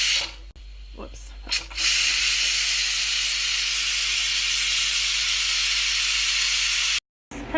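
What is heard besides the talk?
pressure cooker releasing steam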